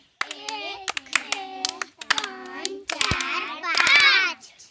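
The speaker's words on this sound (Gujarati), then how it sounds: "અને પાંચ સાદી તાળી આપણે એમને આપીશું" A group of young children at a school play session give a run of quick, simple hand claps in rhythm, with their voices chanting loudly along with the claps.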